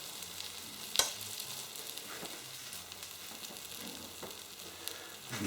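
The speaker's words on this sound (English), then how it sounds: "while that toastie is cooking away in the pan" A ham and cheese toastie fries in a pan with a quiet, steady sizzle, broken by an occasional sharp click or tap of a utensil.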